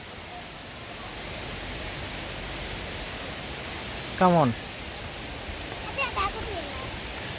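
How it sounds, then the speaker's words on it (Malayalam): Areeckal waterfall roars as a steady, broad rush of falling water heard from the steps above, continuous and moderately distant, with a brief call from a voice and faint chatter over it. "നമുക്ക് വെള്ളച്ചാട്ടത്തിൻ്റെ സൗണ്ടേ ഇവിടെ നിന്ന് കേൾക്കാൻ സാധിക്കും."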